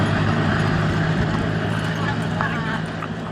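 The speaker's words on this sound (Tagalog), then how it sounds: "Ito yung mga kabayo." Horses' hooves clip-clopping beside a rural road near drying rice and paddy fields, a steady uneven knocking under continuous talk, with a faint whinny-like call partway through.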